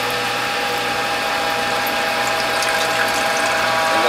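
A Norwalk juicer press is advanced, giving a continuous close mechanical grinding with fine ratcheting clicks and a faint watery trickle of juice throughout.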